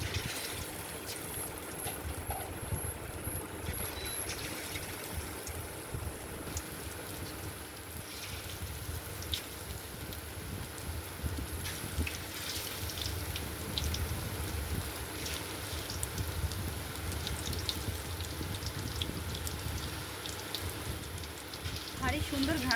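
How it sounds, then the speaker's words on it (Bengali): Chicken pieces frying in hot oil on low heat for a crispy chicken dish, a steady dense crackle and sizzle filling the whole clip at an even, moderate level without let-up. "লো হিটে আমরা আস্তে আস্তে এটা ভেজে নিচ্ছি।"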